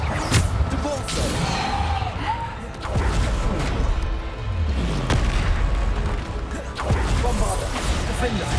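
Depulso spell from Hogwarts Legacy, heard as repeated booming thuds and crashing bursts amid dense, continuous combat noise, with in-game voices mixed in.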